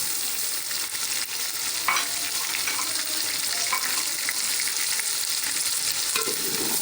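Steady, bright sizzling of garlic-ginger paste frying with chicken in a hot pan for biryani, with occasional scrapes and clinks of stirring, close and continuous.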